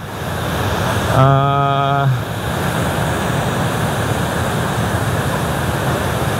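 The Riam Batu Jato rapids at Nanga Taman, Sekadau, give a steady, loud broadband rush of water, and a voice cuts in over it for about a second.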